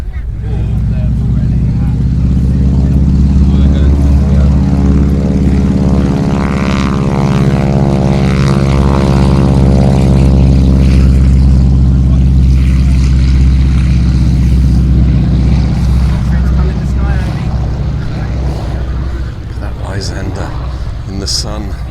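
Fairey Swordfish biplane flying at the Duxford Battle of Britain airshow, a loud, close propeller engine drone with a rising-then-falling pitch sweep as it passes, steady throughout.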